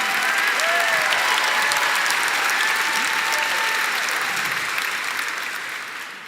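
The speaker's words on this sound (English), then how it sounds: "Round of applause for Anna, everybody" Audience applause at a Canva Create presentation event, a dense, steady wash of clapping that holds evenly and then slowly fades toward the end, with no talking over it.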